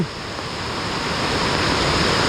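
A rain-swollen stream runs after a heavy downpour, its broad steady rushing roar close by and continuous with no voices over it.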